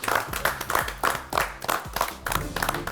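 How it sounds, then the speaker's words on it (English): Cooking contestants in a fine dining tasting menu challenge receive a round of applause, hand claps pulsing in a loose rhythmic pattern from a small group nearby. "you all deserve a warm round of applause"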